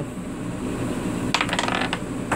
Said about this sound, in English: I dropped that dice somewhere.